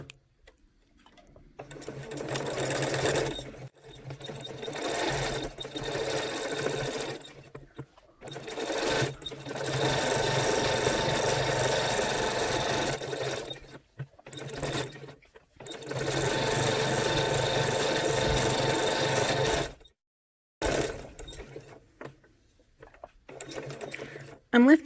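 A sewing machine stitches cloth wipes in several long whirring runs, broken by short pauses and a few quick bursts, loud and close.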